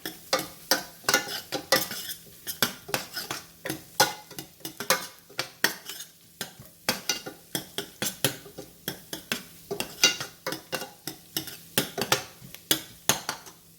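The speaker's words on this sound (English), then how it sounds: "First we will add the turmeric powder. And saute for some time." A spoon scrapes and clinks rhythmically in a pan as turmeric powder is sautéed for lobster masala, with quick repeated strokes over a faint sizzle.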